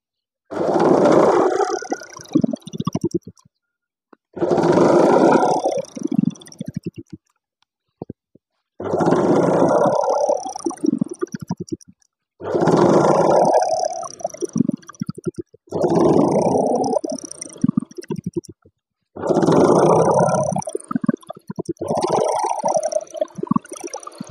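A sewing machine runs in seven rhythmic stitching runs with brief pauses between them, sewing 2.5-inch box lines across a godhadi quilt made from old saris.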